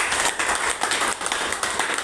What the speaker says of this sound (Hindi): उनके लिए एक बार जोरदार तालियां है।